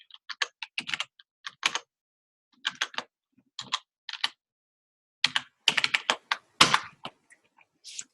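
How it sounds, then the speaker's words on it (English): Someone types a login on a computer keyboard, producing close, crisp key clicks in quick irregular bursts separated by short pauses. "Let's type it in."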